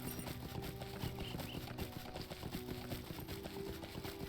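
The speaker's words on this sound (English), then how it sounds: "Let's go back to the horsey." Horse hooves clip-clop at a steady trot in the game Lord of the Rings Online, an even rhythmic patter over soft background game music.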